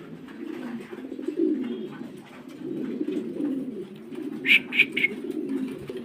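Pigeons at a pigeon farm coo in low, continuous throaty rolls, fairly close, with a few brighter chirps from nearby birds partway through.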